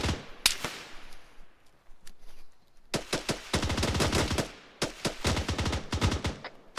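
Arma 3 battlefield gunfire: a few sharp single shots, then long sustained machine-gun bursts with rapid cracks, loud and close.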